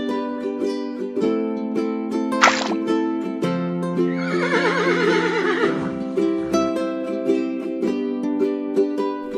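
A toy-video horse gives a long, quavering neigh over steady background music, the whinny rising then trailing off after a short sharp burst.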